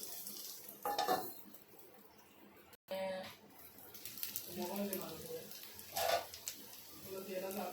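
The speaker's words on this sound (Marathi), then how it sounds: "आपण थोडंसं तेल टाकूया त्याच्यावर परत ही उलट्या साईडनी भाजून घ्यायची आहे चांगली फ्राय करून घ्यायची आहे" Stuffed okra fries in oil in a pan, a soft sizzle broken by clattering and scraping of a utensil against the pan, with a voice talking over it.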